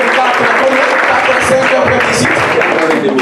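A church congregation at the inauguration of a church applauds steadily and loudly throughout, with a voice speaking over the clapping.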